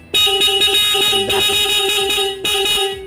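A Sniper 135 Classic motorcycle horn honks in a rhythmic series of short beeps, loud and close, with a brief gap before a final long toot.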